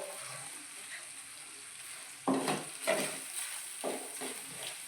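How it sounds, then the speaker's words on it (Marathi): Ground spices such as goda masala, coriander powder and chilli powder being sautéed in a pan for a Maharashtrian soybean gravy, soft sizzling with several scraping stirs of a spoon. "सर्व मसाले चांगले परतून घ्यायचे सर्व मसाले परतून झाले आहे"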